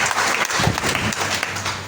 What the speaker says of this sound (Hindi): एक बार बजाइए तालियां